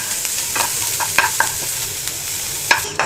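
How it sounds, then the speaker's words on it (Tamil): Garlic is stirred and fried on a low flame for idli podi, with a soft steady sizzle and sporadic spoon scrapes and taps against the pan. The sound is close, with no talk. "நம்ம பூண்டை நல்லா மொறுன்னு வர அளவுக்கு நம்ம நல்லா வதக்கணும்"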